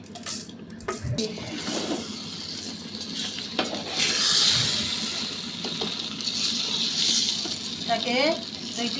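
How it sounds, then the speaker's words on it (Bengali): Pulao rice being stirred in a pot with fried onion, bay leaf and garam masala, giving soft scraping and sizzling sounds that continue steadily throughout, with a light metallic clink now and then. "এটাকে 2-3 বার এরকম নেড়ে চেড়ে"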